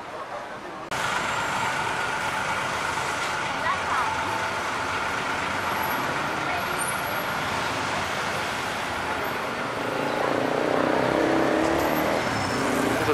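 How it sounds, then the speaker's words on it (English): Steady road traffic near the Grand Palace, with cars, trucks and buses rumbling continuously at a moderate distance, forming a constant roar while someone walks nearby. "There's a taste of the traffic around here."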